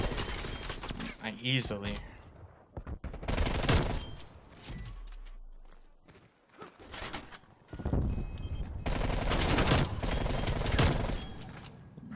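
QBZ-83 rifle fire in Call of Duty: Black Ops Cold War, with several rapid automatic bursts broken by short pauses, footsteps and game noise, and a brief spoken word between the shots.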